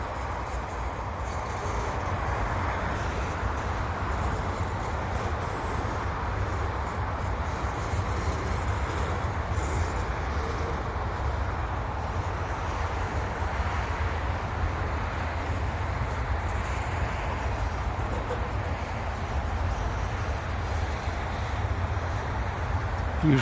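A freight train hauling a long string of graffiti-marked hopper cars rolls past near Lachine station in winter, a steady, loud rumble and rattle of wheels that holds constant for the whole stretch without a break.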